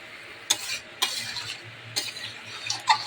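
Meat curry is stirred in a pot over a wood fire: four or five sharp metal scrapes and clinks arrive at uneven intervals over a faint, low sizzle.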